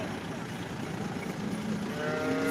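Cattle low with a drawn-out moo near the end, over a busy, noisy background of crowd and engine rumble at the Sangola livestock market.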